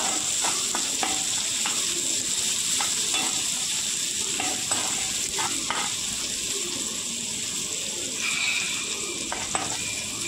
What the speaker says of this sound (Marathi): कांदा थोडासा परतला की त्यात टाकायचं लसूण, आलं आणि परतून घ्यायचे।